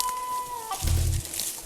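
A rooster pheasant flushes while hunting in South Dakota, giving a short burst of low wingbeats and rustle close by after a faint tonal whistle, with a brief higher squawk-like accent just after.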